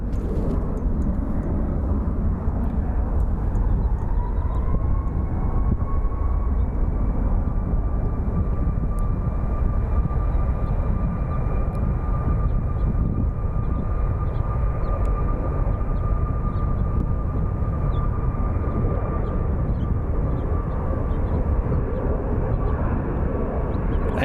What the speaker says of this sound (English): So this is Air Canada 1055 going to Vancouver. It's a 6-year-old 737 MAX 8.